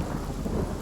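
A thunder-and-rain spell in the fantasy role-playing game Divinity: Original Sin rumbles briefly, a dense low roar of thunder with a wash of rain, heard alone for under a second.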